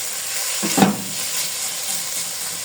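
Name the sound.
onions frying in a pan for keema patties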